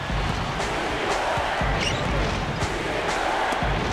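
A steady roar of arena crowd noise in an NBA 2K12 basketball game fills the whole stretch, with faint ball bounces and sneaker thumps scattered beneath the constant buzz.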